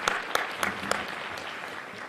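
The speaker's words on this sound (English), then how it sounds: "Round of applause for the mayor." An audience applauds the mayor at a live local event, a burst of clapping with a few sharp claps standing out, fading into a steady, moderately loud patter.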